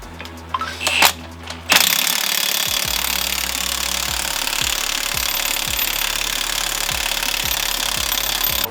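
An impact wrench spins wheel lug nuts on during a five-lug swap on a Ford Foxbody Mustang, giving a loud, steady mechanical whir with rapid rattling hammer clicks that run on continuously for several seconds, after a few sharp metallic clanks.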